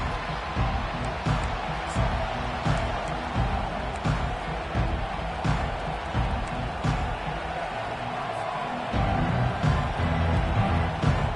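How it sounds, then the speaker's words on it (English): Stadium crowd noise from an EA Sports College Football game, Notre Dame versus LSU, a steady loud roar of cheering fans filling the whole stretch, with a slight swell toward the end. "This crowd bringing an ear-splitting welcome to their visitors"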